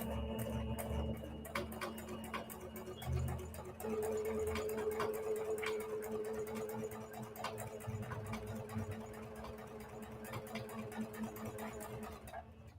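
Sewing machine stitching around a quilted fabric heart, a steady quiet mechanical whir with rapid ticking needle strokes, running continuously at close range with no talk.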